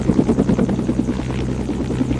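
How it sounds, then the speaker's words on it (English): A video game helicopter firing flares gives a steady, loud rotor drone with a rapid rhythmic chop throughout, the pulses holding even and close with no voices over it. "Here I'm firing quite some flares"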